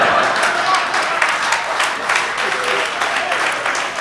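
An audience at a Hindi comedy poetry gathering claps and applauds in a dense, steady burst that carries on for several seconds.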